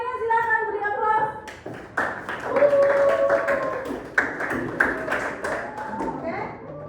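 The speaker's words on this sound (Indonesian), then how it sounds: "Yang lainnya silakan beri aplaus." Children's voices give way to a round of irregular applause from classmates in a dance class, scattered claps and taps mixed with chatter, some louder hand strikes standing out near the front.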